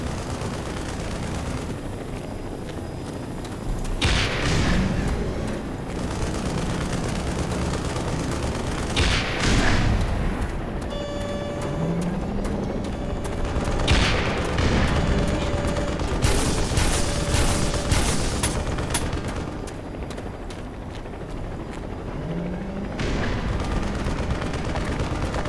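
Bursts of automatic gunfire and heavier blasts ring out repeatedly in the Black Mesa video game, with clattering volleys and booming impacts spread across a loud, busy soundscape and no speech.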